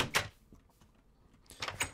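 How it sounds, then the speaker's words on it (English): Wooden doors being placed in the Minecraft video game give two crisp door clacks, one at the start and a louder double knock near the end, with quiet game ambience between. "So we need to start creating some doors."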